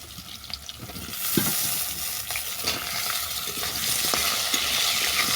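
Bottle gourd and potato pieces frying in a pan, a steady crackling sizzle with occasional stirring scrapes and clinks, close and continuous with no talk.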